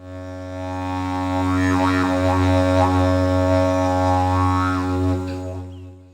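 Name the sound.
didgeridoo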